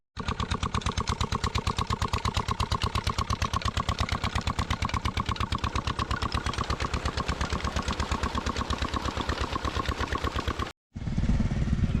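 A Petter engine at a construction site starts up and runs with a steady, rapid mechanical knock, loud and close for about ten seconds, then cuts out briefly before a rougher burst of noise resumes.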